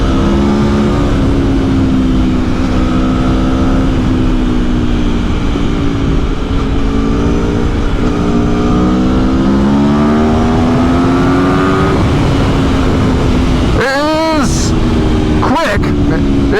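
An Aprilia Tuono V4 1100 Factory naked motorcycle accelerates under a rider, its engine note climbing steadily through the gears over heavy wind roar, with a couple of quick shifts near the end.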